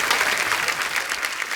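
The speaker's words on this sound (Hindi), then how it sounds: "तो आप सबकी जोरदार तालियों के बीच इनवाइट करना चाहूंगा तो very beautiful, very talented Sonam Bajwa" A studio audience at a comedy talk show applauds as a guest walks onto the stage, a dense, even roar of clapping that holds steady throughout with no speech over it.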